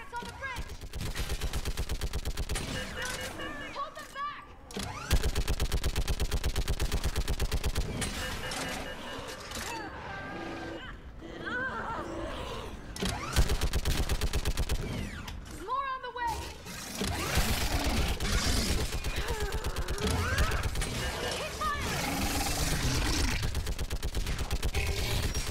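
Mounted gun firing rapidly during a battle in the video game Mass Effect 3, long continuous bursts of heavy automatic fire with brief pauses, loud and close, mixed with explosions and shouted voices.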